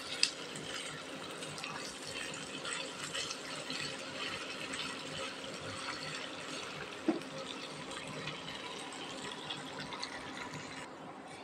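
Beef tripe fries in oil in a pan while being stirred, giving a soft, continuous sizzle with faint scraping and one small clink, fairly quiet and unbroken by talk.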